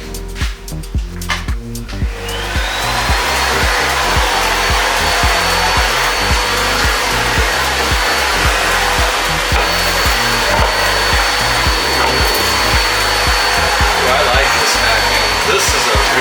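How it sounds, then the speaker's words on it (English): A Eureka bagless canister vacuum cleaner starts up after a few seconds of clatter and runs loud and steady close by, with a continuous whine over a rough motor drone. "this is definitely one of the better vacuums that I'm using today"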